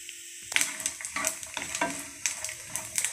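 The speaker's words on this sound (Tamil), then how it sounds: "நல்லா தேங்காய் பொன்னிறமாக வர வரையும் வறுத்து எடுத்துக்கலாம்." Grated coconut dry-roasting in a pan until golden while being stirred, a close run of scraping stirs and light crackling in irregular bursts with no voices.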